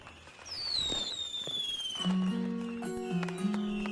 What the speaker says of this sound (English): As the fireworks ripple across the sky